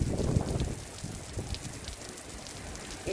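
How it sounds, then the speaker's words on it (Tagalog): Heavy rain pours steadily in Dubai, a dense continuous hiss mixed with strong gusting wind buffeting the microphone, with no voices. "It is still raining in Dubai."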